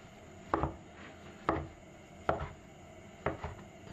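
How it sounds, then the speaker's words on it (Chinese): Knife chopping soaked yuba (tofu skin) into long pieces on a cutting board: four sharp, evenly spaced thuds about a second apart, close and clear with no talk. "腐竹洗干净后，再全部切成长段备用"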